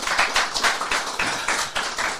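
An audience claps at a French-language show, producing a short, even burst of rhythmic, fairly close clapping with no speech over it.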